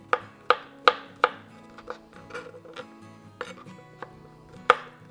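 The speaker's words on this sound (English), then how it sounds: "So I'm just going to slice up the rest of these guys here and get them in the bowl." Kitchen knife slicing mushrooms into slightly chunky pieces on a board, close and alone, a few sharp chops at an uneven pace with quieter taps in between.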